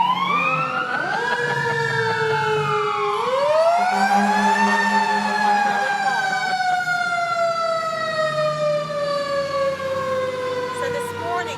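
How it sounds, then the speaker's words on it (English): A fire engine siren wails past, its rising and falling tone sweeping loud and close before trailing off into the distance over steady road noise. "There goes another fire truck."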